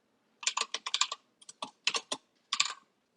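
Typing on a computer keyboard while writing code: quick bursts of crisp, close key clicks separated by short pauses, no voices.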